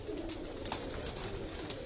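Ferozpuri breeder pigeons coo in a steady, soft, throaty murmur that runs throughout, with a few brief sharper accents along the way and no voices.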